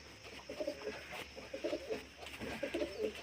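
Pigeons cooing softly at a distance, three short rolling coo phrases spaced about a second apart over a quiet background hum.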